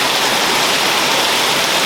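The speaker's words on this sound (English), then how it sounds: "more high quality rain in Dakun. Bit of a tropical downpour." A heavy tropical rain downpour in Dakun pours steadily and loudly, a dense, even hiss of water with no pauses or voices.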